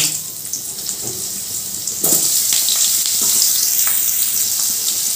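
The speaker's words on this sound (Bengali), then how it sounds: "এরপর আমি দিয়ে দিচ্ছি লম্বা করে কেটে রাখা আলু।" Long-cut potato slices are dropped into hot oil with black cumin, and the quiet sizzle jumps abruptly into a loud, bright, sustained hiss midway through, with a few clinks of the pan and spoon.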